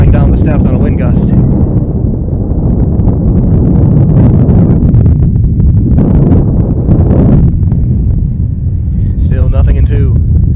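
Wind gusts blow hard into the microphone at an outdoor high school baseball game, a loud, steady rumbling roar throughout with a few brief higher crackles.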